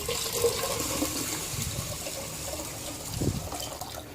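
Water pours into a bowl of fenugreek seeds for idli batter in a continuous, moderately loud splashing stream with a brief heavier gush near the end.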